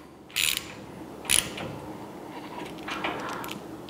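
Bolt being tightened down on the upper blade guide assembly of a 14-inch Powermatic bandsaw, mounted to the guide post: two short, close ratcheting bursts in a quiet workshop, followed by faint metallic handling.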